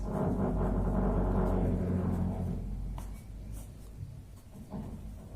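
A pen writes steadily on a board during a partnership final accounts lesson, a continuous close scratching that runs for several seconds before it eases off into quieter handling sounds.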